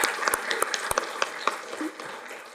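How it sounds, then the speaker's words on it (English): Applause at a city council meeting, a scattered round of clapping from a modest crowd indoors, steady and moderately loud, ending after a few seconds. "can we give them a round of applause also?"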